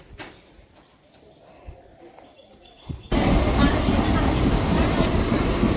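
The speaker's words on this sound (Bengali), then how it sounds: "রানাঘাট ঢুকছে ট্রেন" Quiet ambience gives way abruptly to a loud, continuous rumble and rattle as the Hazarduari Express rolls into Ranaghat station close by.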